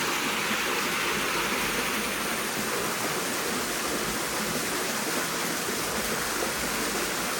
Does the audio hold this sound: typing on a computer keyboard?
no